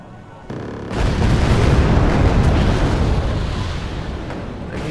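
A missile explosion in the Wargame Air Land Battle video game erupts into a loud, sustained rumbling roar that holds for several seconds after a quieter opening.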